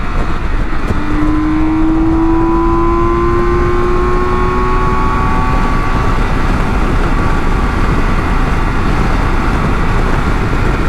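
A BMW K1600 GTL motorcycle accelerates hard in fourth gear, its engine note rising steadily as it pulls, loud and close over heavy wind roar for about eleven seconds, with no talk.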